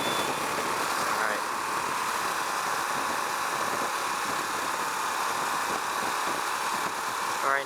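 Husqvarna Vitpilen 701 with a 692cc single-cylinder engine, a steady droning hum and wind rush heard continuously while riding, at even loudness throughout.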